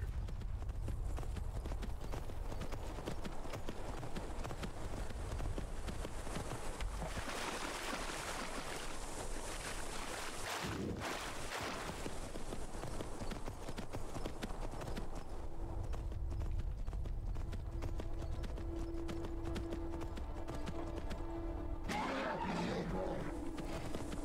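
A horse gallops through the game Skyrim with quick, steady clip-clop hoofbeats that run throughout, close and clear, over a soft outdoor ambience with no voices.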